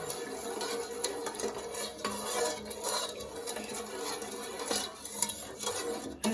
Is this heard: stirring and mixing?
yes